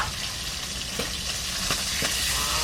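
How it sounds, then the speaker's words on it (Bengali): Fish frying in oil in a village kitchen: a loud, continuous close-up sizzle with a few sharp pops and spits breaking through, and no talking. "ওরে এই মাছ ভাজা বেশি সিদ্ধ ওঠে, ফটফটাইয়ে ফোটে।"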